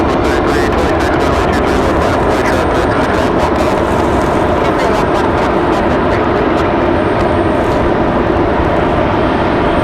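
A Delta airliner departs Raleigh-Durham International, its engines a loud, steady broadband roar that holds for the whole stretch without fading, with talk faintly under it.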